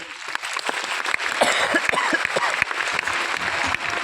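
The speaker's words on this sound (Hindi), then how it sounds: "मैं इन सब के लिए एक बार जोरदार तालियां चाहूंगा" An audience claps steadily for several seconds, a dense patter of many hands with scattered sharper claps standing out.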